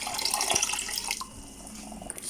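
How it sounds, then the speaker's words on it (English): Water pours and splashes into a pot of dal with washed mealie rice, a steady close rushing with small drips and clinks, no voices. "Add enough water"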